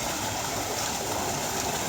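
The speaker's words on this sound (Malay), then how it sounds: "Dia masukkan kat sini air sungai tu." River water diverted into a small channel flows with a steady, even hiss and rush, continuous and moderately loud with no voices over it.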